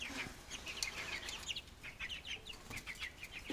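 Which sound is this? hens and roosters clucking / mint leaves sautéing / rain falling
hens and roosters clucking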